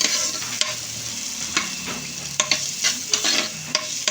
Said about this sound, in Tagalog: Seashell. Minigitisan na sa butter.